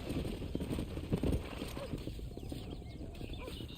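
Horse hooves clip-clop at a walk in the Western video game Red Dead Redemption, a faint rhythmic clatter under a quiet ambient bed, with a brief louder thud mid-way and no clear talk.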